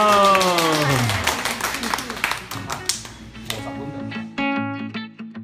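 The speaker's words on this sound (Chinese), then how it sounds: "好，来，大家鼓掌" A group at a resort restaurant in Kenting claps briefly over people talking while a pitched voice or musical tones sound alongside, the scattered clapping mixed into the busy room.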